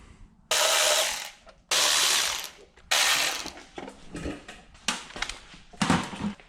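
A ratchet cranks in several loud bursts of rapid clicking, each a second or so long with gaps between, while three bolts come out of a small engine's recoil cover.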